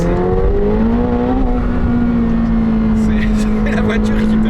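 A McLaren 720S sports car engine drones loudly and steadily while accelerating, climbing slightly in pitch, holding a strong continuous tone with faint clatter near the end.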